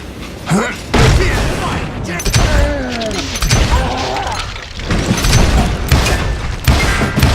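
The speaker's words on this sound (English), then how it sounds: "Bullets were flying at me from every which way." Gunfire and booming blasts in the Western shooter Call of Juarez, scattered loud shots and thuds overlapping with a speaking voice, the firing irregular and close, running through the whole stretch.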